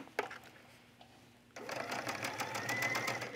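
A sewing machine stitches a gathered collar onto a tunic, running fast and steady at close range after a brief quiet pause with a few light clicks.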